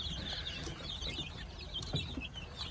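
Faint, high chirps and soft clucks from a chicken with a swollen vent straining to pass droppings come and go over a steady background hiss, with a brief louder peep near the end.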